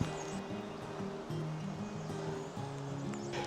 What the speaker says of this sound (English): I'm right by a beautiful river